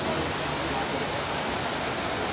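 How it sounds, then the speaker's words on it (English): A waterfall inside Singapore's Cloud Forest gives a steady, loud, dense rush of falling water that fills the whole moment without any break. "Oh yeah, the waterfall view."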